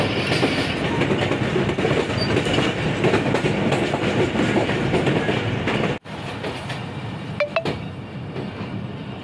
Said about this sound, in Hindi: ये गाड़ी डी शेप में गुजर रही है।